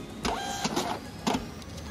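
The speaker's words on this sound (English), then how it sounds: "the printer has now printed my order via the virtual IoT box" Receipt printer at a point-of-sale station printing a kitchen order, three bursts of mechanical whirring over a steady low hum, fairly close and alone.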